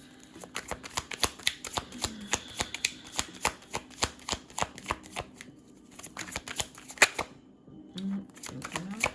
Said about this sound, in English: Now let me get a couple more cards